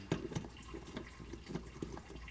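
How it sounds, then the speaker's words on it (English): Coolant draining from a Toyota Supra during maintenance, a steady trickle of liquid with soft splashy pulses repeating about every half second, fairly faint and close, with no talking. "while the coolant's draining"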